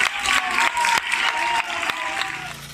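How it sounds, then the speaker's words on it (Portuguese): Neighbours applaud from surrounding apartment buildings in Seville as a woman cured of Covid-19 returns home from hospital: a dense wash of clapping with some crowd noise, sustained and fairly loud. "Curada da Covid-19, a vizinha ouviu aplausos ao voltar para casa depois de 1 semana hospitalizada."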